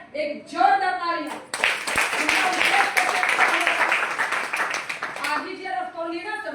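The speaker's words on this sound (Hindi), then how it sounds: "एक जोरदार ताली" Loud, dense audience applause at a health-product seminar, rising sharply and holding for several seconds, with a man's speech just before and after it.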